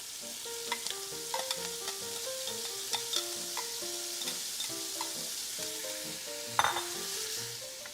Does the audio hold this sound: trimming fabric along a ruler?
no